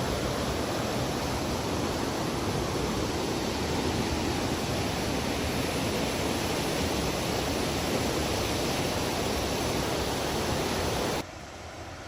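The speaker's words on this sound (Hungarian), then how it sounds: "Döbbenetes mélységű és zúgású." Mountain gorge stream at Mostnica in Slovenia roaring continuously, a loud, dense broadband rush of tumbling water heard up close without voices, dropping slightly near the end.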